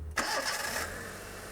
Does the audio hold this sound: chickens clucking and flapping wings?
no